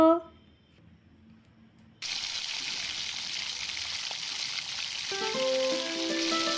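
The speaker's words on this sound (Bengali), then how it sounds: "দিয়ে দেবো এখানে ঘি। এখান থেকে এই ব্রেডগুলো নিয়ে নেব।" Miniature bread slices sizzling in ghee in a small pan, a steady broadband hiss that starts abruptly and holds, with a faint tonal bit near the end and quiet sounds before it.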